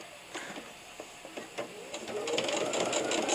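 A sewing machine basts a long stitch at a 4.5 length setting, starting with a few spaced clicks and ticks, then settling into a continuous close mechanical run.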